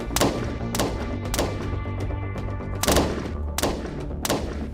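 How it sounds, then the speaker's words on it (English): Rifle gunfire in a student film, sharp loud shots sounding at irregular intervals, about seven reports over a few seconds, each with a short tail, close and unaccompanied by talking. "we grabbed our rifles and unloaded on them"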